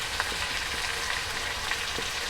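Marinated chicken frying in a pan for coriander chicken, a short, even close sizzle with faint stirring scrapes, no voices.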